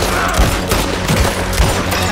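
Gunfire from the video game Red Dead Redemption 2, several loud close shots in a quick irregular volley over a busy game soundscape.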